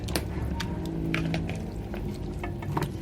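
Onion and goat meat sizzle in an open pressure cooker on the stove, a continuous close crackling fry with scattered sharp pops and faint stirring scrapes, no voices.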